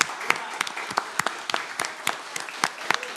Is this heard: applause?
yes